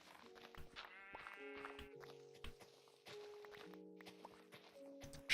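Minecraft sheep bleat repeatedly in short, wavering calls, several overlapping at close range, with soft blocky footstep-like thuds underneath.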